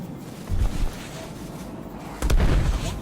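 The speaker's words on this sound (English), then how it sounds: "if you agitate them enough, they'll explode" Leaf and trash bags blowing up in Destiny 2's Festival of the Lost, two muffled booming pops, one short and one longer, over a low game ambience.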